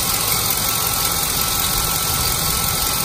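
A Chevy Avalanche truck engine runs at a steady idle after a cylinder 3 misfire repair. The close, loud hum continues evenly throughout, with no talk.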